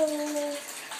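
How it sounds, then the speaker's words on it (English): Water sloshes and splashes softly in a baby's bath, close and faint, with a brief tonal ring at the start. "You're taking a bath."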